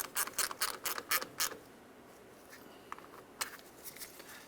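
Ratchet clicks in quick bursts as the negative battery terminal is tightened on a 1992-1996 Ford F-150, a run of six sharp, close ratcheting strokes followed by a pause and a few lighter clicks.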